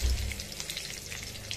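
Mustard seeds frying in hot oil for spicy Kolhapuri kat vada give a steady, soft sizzle and crackle close by, heard on their own without talk.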